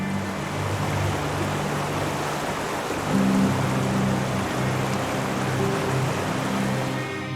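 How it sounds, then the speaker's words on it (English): Atlantic Ocean waves crash against a rocky shore, with steady loud surf and a low continuous roar that swells slightly partway through, while low tonal hums run underneath. "white-capped waves crashing against the rocky shores"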